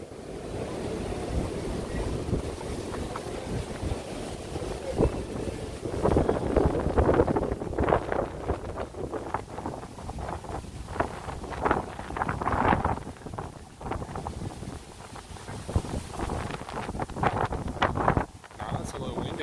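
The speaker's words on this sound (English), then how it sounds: "It's a little windy." Steady wind buffeting the microphone in gusty rumbles, with voices faintly audible beneath the roar.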